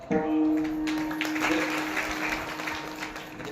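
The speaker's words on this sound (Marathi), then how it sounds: "टाळ्या वाजवू नका" An audience at a devotional kirtan gathering bursts into loud, sustained applause right from the start, a thick wash of many hands clapping together with a steady tone humming beneath it.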